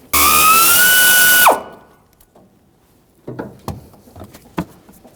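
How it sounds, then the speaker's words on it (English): An air ratchet spinning out a power steering rack bolt under a 1999-2006 Chevrolet Silverado 1500, a loud, high pneumatic whine that runs for about a second and a half and then cuts off, followed by scattered metallic clicks and clinks. "Now that I got it started, I'll just continue on with my air ratchet here."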